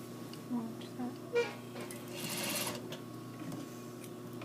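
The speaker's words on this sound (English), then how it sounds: "sewing over pins is not good for the machine." A sewing machine stitching fabric near pinned corners, a soft steady motor whir with faint needle clicks, quiet and close, with a brief louder patch midway.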